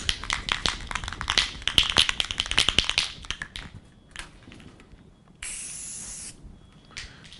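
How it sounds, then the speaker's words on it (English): Several short bursts of aerosol spray hissing, then a longer steady hiss from a Rust-Oleum spray paint can applied to a car panel, all close by with no talking. "got a spray paint can"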